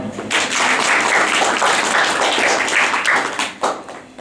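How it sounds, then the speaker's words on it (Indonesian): An audience at an Indonesian student discussion forum in Egypt breaks into applause, a dense sustained roar of many clapping hands that thins out near the end with a few scattered claps. "Tepuk tangan."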